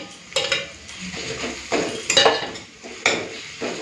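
Ginger-garlic paste fries with lightly browned onions in a pan, a low sizzle broken by several sharp scraping clatters of a spoon stirring against the metal.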